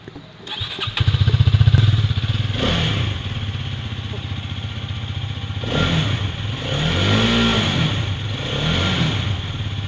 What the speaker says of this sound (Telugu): ఈ బైక్ యొక్క ఇంజిన్ సౌండ్ అయితే మీకు వినిపిస్తాను అనమాట.